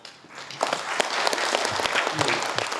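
An audience at a regional development plan briefing in Gyeongsangbuk-do breaks into applause, starting softly and quickly swelling into a full, steady round of many hands clapping.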